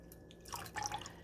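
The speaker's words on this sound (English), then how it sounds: "I am now using the spring water and just submersing it" Spring water poured over sea moss to soak it, a short burst of light drips and splashes, close and fairly quiet.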